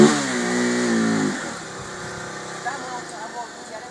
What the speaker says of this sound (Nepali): हाम्रो अर्को बाइक आउँदैछ